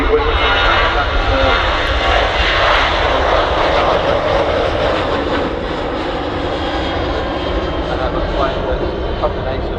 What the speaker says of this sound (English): Got the Ryanair blasting off down the runway.